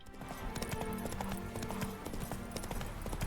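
Horse hooves clip-clop in a quick, steady trot during riding in The Witcher 3, a continuous run of sharp hoof strikes over faint background music.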